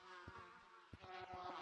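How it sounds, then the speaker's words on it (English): Swarming bees buzz in Gorilla Tag, a faint, steady droning hum with a few short rhythmic pulses throughout. "I can hear the bees"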